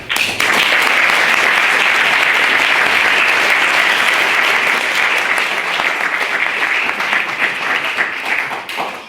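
A debate audience claps loudly and continuously after the result of a student motion on abolishing mandatory coalition is announced, dense sustained applause that eases slightly near the end.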